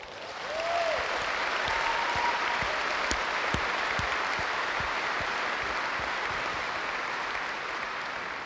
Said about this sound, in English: I think these guys deserve another round of applause